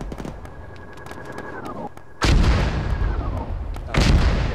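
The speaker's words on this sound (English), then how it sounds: "aside from them mortaring us" Mortar rounds landing in the military shooter Arma during a ShackTac outpost defence, two loud deep booms with long rumbling decay over a steady background of battle noise and a fading tone.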